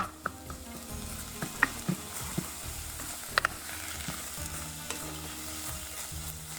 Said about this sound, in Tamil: நல்லா வதகுது பாருங்க.